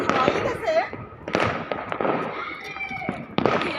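New Year's firecrackers and fireworks burst outdoors at a street celebration in Kolkata, several loud cracking pops in quick succession, with people talking and children's voices around them.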